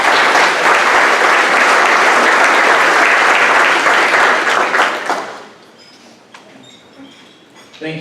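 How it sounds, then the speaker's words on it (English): Loud, dense applause from an audience at a 2016 university service citation awards ceremony, steady for about five seconds before fading to scattered claps and quiet room noise. "Let's give Neil a round of applause as well."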